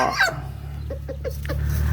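Fighting cock breeding hens with chicks cluck in a quick run of short, soft calls, close by, over a steady low hum.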